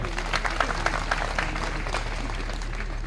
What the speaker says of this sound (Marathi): त्यांच्यासाठी एकदा जोरदार टाळी वाजवा